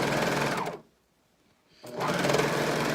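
A sewing machine stitches a neckband onto a garment in a loud, steady, close whirring run that stops for about a second and then starts again.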